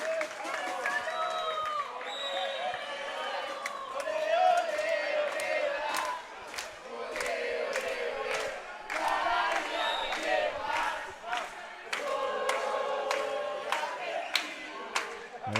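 Argentinian fans at a women's foam dodgeball world championship match against Mexico, cheering, shouting and clapping in repeated bursts that swell and fade, with a commentator talking over the noise.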